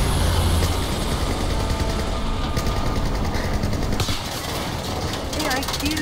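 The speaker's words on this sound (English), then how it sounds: "Chopper! Incoming!" A helicopter in the video game Battlefield 4 thrums loudly overhead with a dense rotor chop amid gunfire and game noise, while a voice shouts over it.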